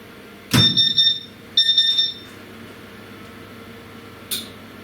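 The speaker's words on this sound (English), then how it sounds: "There'll be an alarm, or there should be an alarm saying that it's checking itself" A Thunder Laser Nova 35 100W laser cutter sounds its startup self-check alarm: two loud, high electronic beeps about a second apart, each held for roughly half a second, with a faint click afterward in a quiet room.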